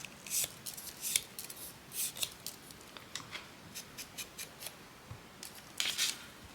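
Scissors snip through paper or card at a craft desk in a series of quiet, close, crisp cuts with short irregular gaps between them, and no talking.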